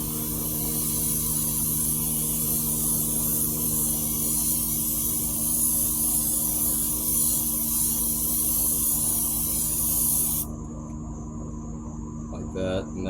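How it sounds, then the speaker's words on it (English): Cleaner sprayed from a can onto transmission parts during a fluid and filter change, a loud continuous hiss running steadily for about ten seconds and then cutting off, leaving a quieter background. "I'm just gonna kind of hold it at like that, and then I'm just gonna kind of spray it down."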